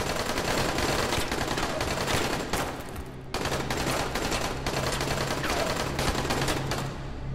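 Rapid automatic gunfire in Dying Light rattles loud and near in dense, continuous bursts with a brief break midway, nearly alone with no talking.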